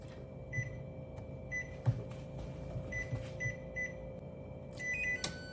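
A TurboBlaze 9-in-1 air fryer preheating to 425 degrees: a quiet steady fan hum with several short soft electronic beeps and a few light clicks and knocks nearby.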